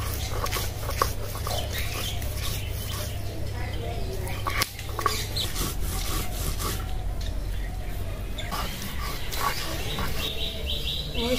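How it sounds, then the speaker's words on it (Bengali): Garlic and green chili are ground on a grinding stone, making steady rough rubbing and scraping strokes. Birds chirp and a dog is heard faintly in the background. "আগে রসুন আর মরিচ, কাঁচা মরিচটা বেটে নেই।"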